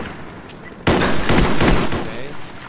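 Gunfire in the shooter game Call of Duty: Black Ops, a loud burst of rapid shots starting abruptly and continuing densely for about two seconds before easing slightly, heard alone without talk.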